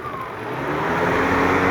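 A Lada Vega engine idles steadily with its alternator charging, a continuous close low rumble that grows slightly louder over the short stretch, with no talk.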